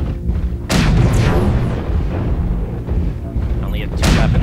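Autocannon fire in the mech combat game MechWarrior Online: heavy booming bursts land in several loud close blasts with rumbling decay, while a voice talks over the gunfire.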